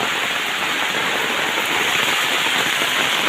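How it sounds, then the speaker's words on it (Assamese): Heavy rain lashes a street in an unbroken, loud, close wash of noise with no other sounds. "এইবিলাক পানী পুৰা বৰষুণ দি আছে"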